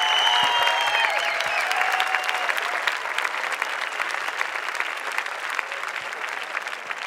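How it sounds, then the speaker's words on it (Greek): Dense audience applause fills a comedy show for comedian Michalis Mathioudakis, a sustained wash of many hands clapping that stays strong before thinning slightly toward the end, with a voice heard briefly at the start. "Ένα τιτάνιο χειροκρότημα για τον αβήθιστο, τον απίθανο, τον αβάνιστο Μιχάλη Μαθηδάκη"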